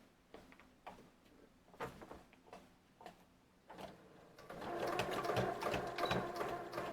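A sewing machine stitches fabric for a handmade junk journal, starting with quiet scattered clicks and taps before breaking into a louder, steady, close-up whirring run of stitches for the last few seconds.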